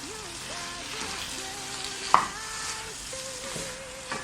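Onions and green pepper are mixed into frying goat meat for spicy Nigerian asun, a close, steady sizzle broken by scraping stirs and a sharp clink of a spoon against the pan, with no talking.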